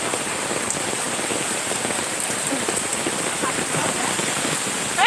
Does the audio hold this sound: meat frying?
no